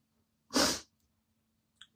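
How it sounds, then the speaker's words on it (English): One loud, close sneeze bursts out, followed by a brief pause and a couple of faint breaths or sniffs. "Oh, I've got to sneeze."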